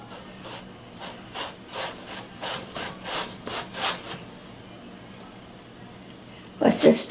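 A brush sweeps acrylic varnish across an abstract acrylic painting in burnt sienna, green and orange, giving a run of soft rhythmic scratchy strokes, a quiet pause, then a couple more strokes.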